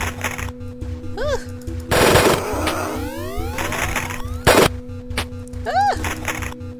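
Gun firing in the browser game The Border Lands, loud bursts of rapid automatic shots with electronic whooshing sweeps and chirping game effects between volleys.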